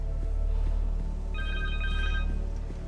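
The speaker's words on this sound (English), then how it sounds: "Phone!" A cell phone rings in Marvel's Spider-Man 2 video game, a thin electronic trilling tone pulsing over a low, steady game soundtrack drone.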